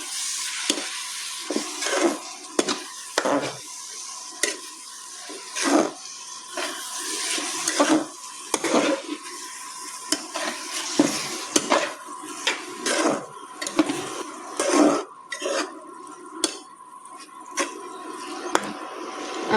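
Mushroom chilli with fresh coriander stirred in a pan, a spoon scraping and clinking in irregular strokes over a steady soft sizzle, close and moderately loud with no talking.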